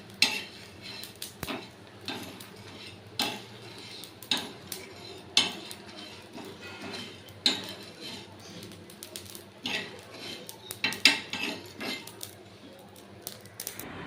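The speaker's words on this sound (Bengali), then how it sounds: "দেখুন আমি ভালো করে ভেজে নিচ্ছি এটাকে সুন্দর করে।" Whole spices such as cloves and chillies dry roasting in a pan, with quiet, frequent clicks and rattles of a spoon stirring and scraping the spices in a steady rhythm.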